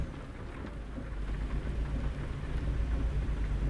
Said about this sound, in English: the rain came on very strong